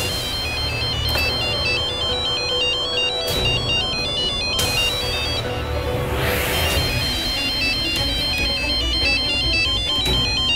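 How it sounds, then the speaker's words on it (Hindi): A telephone's electronic ringtone sounds from elsewhere in a home, cycling through repeated tonal bursts at a steady loudness across roughly ten seconds, alone without any voices. "फोन कहीं घर पे कहीं बज रहा है।"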